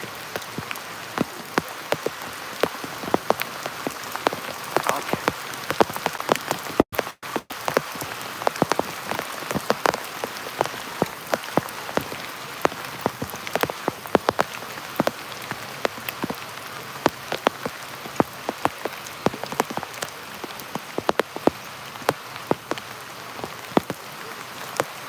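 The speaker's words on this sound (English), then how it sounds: "I don't mind the rain" Steady rain falls and patters on surfaces in a dense, continuous hiss with scattered sharper drops, unbroken for the whole stretch and with no talking.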